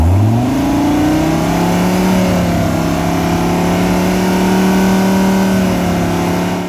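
A loud car exhaust revs up quickly and holds a steady high drone during a police noise measurement at the Woerthersee meet, close to the tailpipe with a slight dip and recovery midway.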